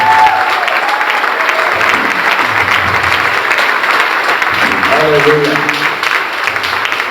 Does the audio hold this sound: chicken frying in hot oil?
no